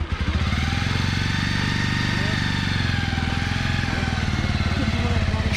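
A motorcycle engine runs steadily at close range with a throbbing, even pulse while a beginner learns to ride.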